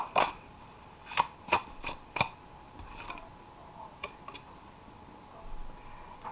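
A new tarot card deck being shuffled up close, with several sharp riffling bursts early on followed by softer, scattered card flicks and taps in an otherwise quiet room.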